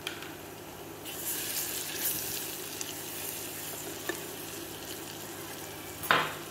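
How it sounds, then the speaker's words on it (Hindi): Ginger-garlic paste, red chilli and coriander powder with tomato sizzle as they fry in a pan, a constant low crackling hiss broken by a few stirring scrapes and clinks, with a sharper clatter near the end. "इन सभी मसालों को अच्छे से भून लेंगे"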